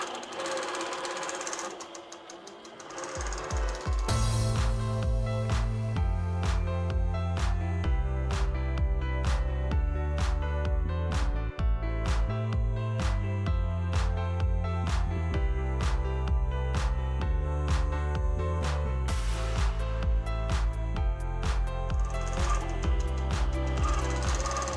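A computerized quilting machine runs steadily while stitching a feather pattern on a fall table runner, its needle drive producing a loud, continuous rhythmic mechanical chatter with repeating pulses, close to the microphone and with no one talking.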